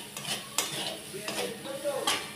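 A spoon scrapes and stirs spices with coriander powder in a pan for egg curry: several distinct scraping strokes over a faint sizzle, close up, with no talking.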